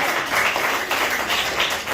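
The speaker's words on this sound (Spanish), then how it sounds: "A ver, pues le damos un aplauso." A short burst of steady clapping from a group in a primary school room, fairly loud and continuous throughout.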